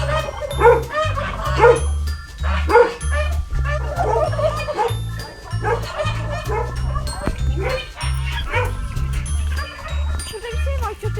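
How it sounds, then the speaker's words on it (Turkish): A dog barks in short bursts close by, with some whimpering, over background music and occasional voices. "köpek var"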